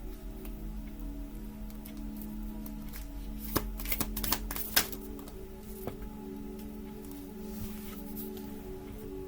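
Tarot cards shuffled and drawn, a quiet soft riffling with a short cluster of crisp card snaps in the middle over a faint steady background hum.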